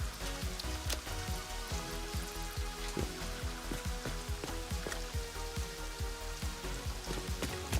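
Steady rain in the factory-building game Satisfactory, a dense pattering hiss mixed with a thumping game soundtrack, continuous and fairly loud throughout.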